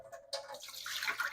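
Washed rice water drains off after a couple of rinses, a short close splashing pour that builds from a faint trickle into a steady, louder rush of water over about a second.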